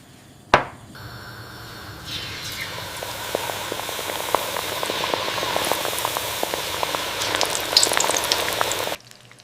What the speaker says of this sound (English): Let them fry until golden brown on one side.